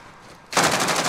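Rapid automatic gunfire in a Warzone zombies shooter game bursts in abruptly after a brief quiet moment, loud and dense, continuing as a sustained rattling stream with no talking.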